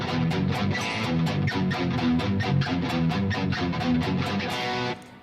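Distorted electric guitar power chords, played at full song speed with a steady, driving rhythm of palm-muted chugs, loud and continuous before cutting off near the end.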